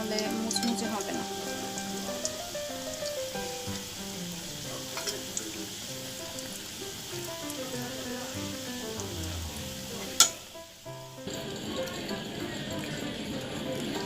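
Chocolate samosas frying slowly in oil over medium heat, a broad steady bubbling sizzle like light rain that runs continuously, with a sharp knock and a brief dip near the end.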